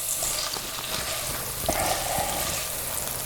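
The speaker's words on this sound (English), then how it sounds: "We're gonna start up the beefs now" Beef steaks sizzle and fry over a campfire for a steak burger, a steady close crackling hiss with small pops and brief stirring scrapes throughout.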